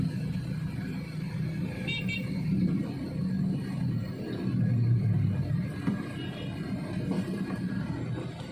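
Dense afternoon traffic jams the streets of Mataram city during Ramadan, a steady rumble of car and motorbike engines heard from inside a car, with an occasional faint horn toot.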